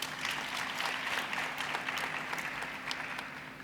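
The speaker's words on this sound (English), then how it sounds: "I think we should give yourself a round of applause." Steady applause from an audience at an official opening ceremony in Bloemfontein, celebrating a university's 20th anniversary; a dense, even wash of clapping holds at a fairly constant level throughout without any voices.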